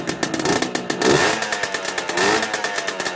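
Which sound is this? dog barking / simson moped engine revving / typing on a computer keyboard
simson moped engine revving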